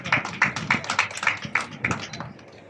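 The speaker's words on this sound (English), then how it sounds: "give them a big round of applause" Audience at an award and felicitation ceremony claps in a steady, evenly paced rhythm, with each clap sharp and fairly close before the sound tapers off.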